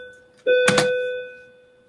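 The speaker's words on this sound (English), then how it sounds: "Sorry about the bell. That's just transition time." A school transition bell gives one electronic ding-like tone with a soft thump at its start, then rings out and fades over about a second, alone in a quiet room.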